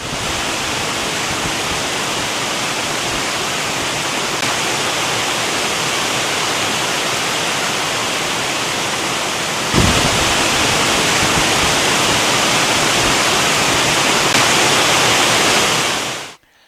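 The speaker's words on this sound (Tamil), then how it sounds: "வெள்ளி போல் ஆர்ப்பரித்து கொட்டும் அருவிகள்" Roaring waterfall in the Nilgiri hills, a dense, steady rush of falling water, loud and close, continuous throughout with no voices.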